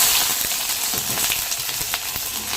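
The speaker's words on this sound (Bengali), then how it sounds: "পেঁয়াজটা হালকা একটু ভাজা ভাজা করে তারপরে এই চিচিঙ্গাটা দিয়ে দেবো।" Onion sizzling in hot oil that was first tempered with black cumin seeds; a steady, close hiss of frying runs throughout, with a few soft clicks and pops and no talking.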